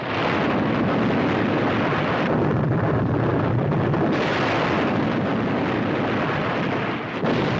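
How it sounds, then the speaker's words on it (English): Explosions hurling water skyward at sea, a sustained roaring rumble with churning blasts and spray that swells and dips over several seconds, loud and close with no talk. "Look at them explosions, throw that water in the air."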